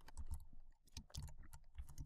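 Computer keyboard typing while configuring a Cisco router interface in Packet Tracer, with rapid, irregular clusters of key clicks and a heavier thump or two, close and fairly quiet, without any talk.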